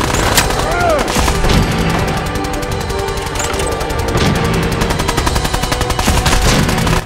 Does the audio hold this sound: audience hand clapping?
no